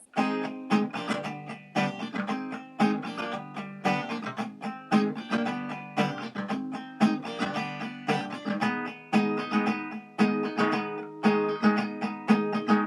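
A guitar plays a section of a song, Mirabel and Camilo's part, with steady rhythmic strummed chords repeating throughout, close and clear, with no talking.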